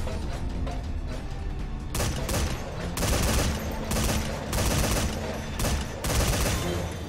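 Turret gunfire in Metal Gear Solid Survive, heavy rapid bursts that swell and ease in repeated loud waves over a continuous battle background, with faint speech in places.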